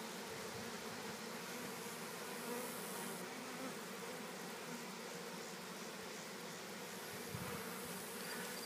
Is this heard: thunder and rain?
no